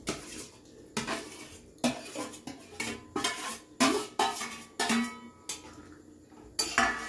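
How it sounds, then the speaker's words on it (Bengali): A spoon clatters and scrapes against a pan as fried potato and fried paneer go into boiled peas for a ghugni, in repeated short bursts of metallic clinks and stirring. "এইবার এই আলু ভাজা আর পনির ভাজাটা দিয়ে দিই।"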